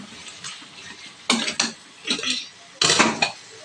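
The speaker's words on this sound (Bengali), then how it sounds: "এর মধ্যে আমি আলুটাকে দিয়ে ভালো করে নেড়ে ছেড়ে তারপরে প্রেশারে বসিয়ে দেবো" Pre-fried potatoes tipped into meat in a pan and stirred, producing clattering knocks of a utensil against the pan in several sharp bursts, close and moderately loud, with faint sizzling between them.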